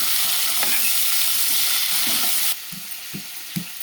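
Drumsticks frying in a pan for prawn curry give a dense, steady sizzle. Partway through, it cuts to a quieter background with a few sharp utensil clinks.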